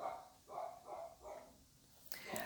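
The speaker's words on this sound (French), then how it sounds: "Qu'est-ce qu'il fait le chien?" A dog barks in four short bursts spaced about half a second apart, followed by a sharper yelp near the end, fairly close and moderately loud with no speech.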